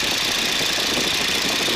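A Stearman biplane's radial engine drones loudly and steadily in flight, a rough continuous roar filling the cabin with no talk over it.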